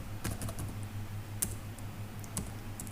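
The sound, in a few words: typing on a computer keyboard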